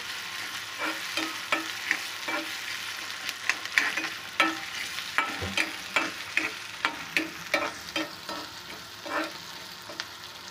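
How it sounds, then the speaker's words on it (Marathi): Onion sautés in oil for a dried shrimp dish, a low sizzle broken by a steady run of sharp spatula scrapes and stirring knocks, close by. "कांदा चांगला लाल होईसर परतायचा आहे तेलामध्ये"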